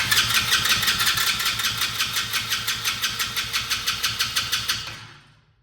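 A Chinese ATV engine cranks with the choke on, a fast, steady, rhythmic starter chug repeating for about five seconds, loud and close, then winding down to silence without catching.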